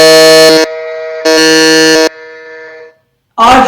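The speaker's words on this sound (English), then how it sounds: "we have all the buzzers going on there" Quiz buzzers blare at a contestant quiz, loud steady electronic tones in two long bursts with a lower lingering hum between, then a sharp cut-off and a final short burst.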